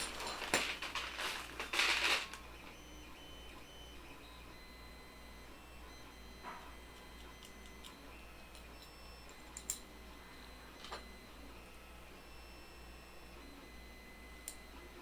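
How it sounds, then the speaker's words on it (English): A 3D printer for a BLV MGN cube build runs quietly in the background, giving faint ticks and occasional soft beeps over a low steady hum after a brief burst of louder clatter at the start. "the printer you hear in the background"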